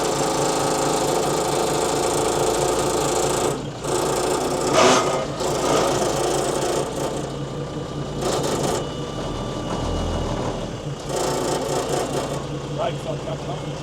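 An old Mercedes-Benz 911 4WD truck engine runs with a steady mechanical rumble throughout, rattling vibration and brief dips, while someone talks over it.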